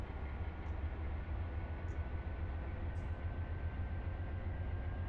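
A freight train in the Run 8 train simulator game gives off a continuous low rumble and rolling drone, steady and moderately quiet, with faint high clicks over the top.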